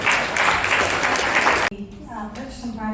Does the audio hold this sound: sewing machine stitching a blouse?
no